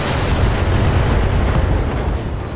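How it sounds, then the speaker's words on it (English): In the BattleTech mech video game, missiles fire and explode as one loud, continuous roaring blast that stays dense and rumbling throughout. "Burn one of the missiles off in order to save heat."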